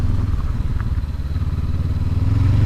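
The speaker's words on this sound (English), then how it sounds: "I'll get more confident in the bike off-road as time goes by." Stock 2019 Honda CB500X adventure motorcycle ridden off-road on Oregon trails, its engine a steady loud low drone with rattling clatter from the rough ground, continuous throughout with no talking.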